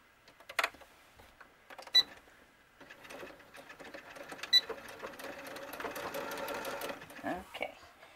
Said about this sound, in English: So now I'm going to sew my side seams like so.